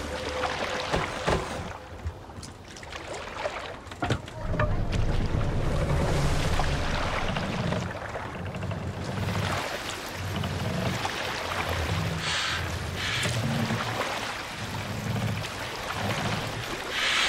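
Viking longship oars pulling through water in Assassin's Creed Valhalla, rhythmic repeated low strokes and splashes over wind and sea ambience, with a few sharper knocks early on.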